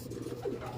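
A soft pigeon coo sounds briefly amid quiet background noise, low and gentle.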